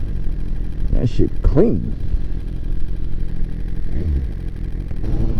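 A BMW S1000RR sport motorcycle rumbles steadily on the road while someone talks over the engine noise.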